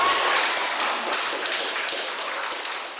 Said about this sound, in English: Lethbridge Mayor Waco Dodick got a round of applause by a room full of future Lethbridge leaders this afternoon.